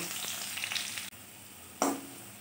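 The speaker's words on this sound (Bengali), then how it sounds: "সেই আলুটাকে আমি ভেজে নিচ্ছি। আলুটাকে একটু লাল করে ভেজে তুলে নেব।" Potato strips cut lengthwise hiss and sizzle steadily in hot oil in a pan, a close, continuous frying sound with a brief clatter of stirring near the end.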